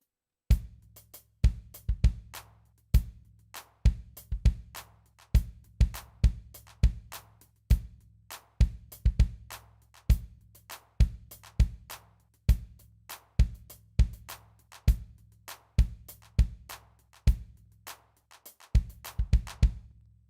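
Electronic drum pad hits repeat in a fast rhythm, their loudness rising and falling unevenly from hit to hit.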